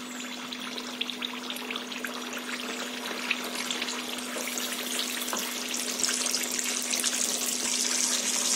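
Unniyappam batter frying in hot coconut oil, a steady soft hiss and bubbling sizzle with a low constant hum beneath, continuous and fairly quiet throughout, with no talking.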